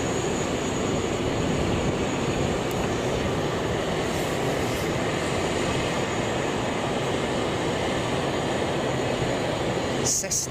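A Cessna Supercargo Master aircraft at Boeing Field drones steadily with a dense, broadband engine roar that holds loud and constant, with brief clicks near the end.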